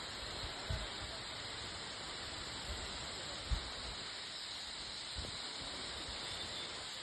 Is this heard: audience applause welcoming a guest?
no